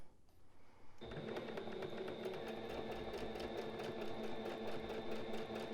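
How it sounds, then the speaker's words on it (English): A sewing machine stitching a pillowcase, starting after a second of quiet with a fast, even mechanical whirr and clatter that runs steadily, close up and moderately loud. "Let's put our foot to the pedal, as they say, and start sewing."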